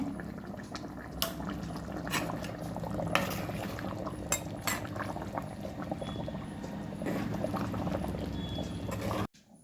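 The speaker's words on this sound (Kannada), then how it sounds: "ನೋಡಿ ಚೆನ್ನಾಗಿ ಕುದೀತಾ ಇದೆ." A pot of fish curry bubbles steadily on a stove, a close, continuous boil with occasional clinks of a ladle against the pot, ending abruptly.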